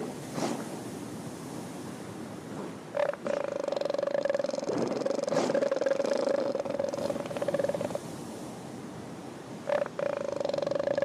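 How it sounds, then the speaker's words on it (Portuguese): Giant elephant seals on a beach let out a low, sustained guttural drone over constant crashing surf and wind, with the call breaking off and returning near the end. "Os gigantes elefantes marinhos."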